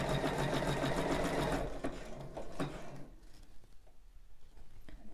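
A sewing machine runs steadily, stitching elastic onto bra fabric, then stops after about three seconds, leaving quiet handling sounds.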